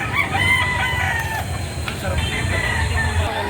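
Roosters crow loudly and repeatedly at a busy chicken market in Lipa City, Batangas, with clucking fowl and a steady crowd murmur of voices beneath.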